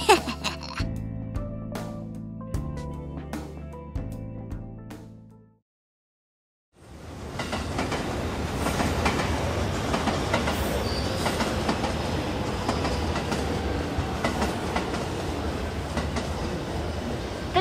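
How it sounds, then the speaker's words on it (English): A train's door chime and announcement tones sound briefly before a pause, then the carriage rolls on with a steady rumbling, clattering din of wheels and rails up close. "The train doors are now closing."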